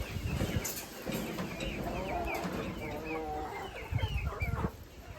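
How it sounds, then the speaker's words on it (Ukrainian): Old hens in a home farmyard, clucking in soft, irregular calls over steady background noise, with a few louder bursts near the end. "А це старі кури."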